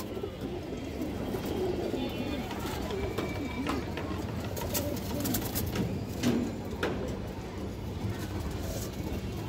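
Silver pigeons with black tail and wing markings coo in low throaty rolls, blended into a busy, dense background with a few sharp clicks, close and fairly steady throughout.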